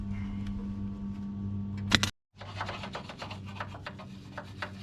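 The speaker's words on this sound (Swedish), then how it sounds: "Då slipas det för fullt här." Rough, continuous grinding of welded metal on a Chevrolet V8 pickup runs steadily, cuts out for a moment, then resumes with a gritty, rasping texture and a low motor hum underneath.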